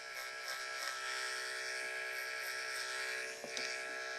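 An electric hair clipper buzzes steadily at close range while cutting a boy's textured hair over a comb, a continuous even drone with a brief dip near the end.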